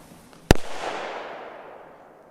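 Wet pyrotechnics set off in an experiment: one sharp, loud firecracker-like bang, followed by a fading crackling hiss that trails off over about two seconds.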